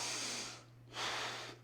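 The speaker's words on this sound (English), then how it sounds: "Focus on controlling breathing." Two slow breaths drawn through the nose during a hip flexor strengthening exercise, each a soft airy hiss separated by a short pause, close and quiet with no talking.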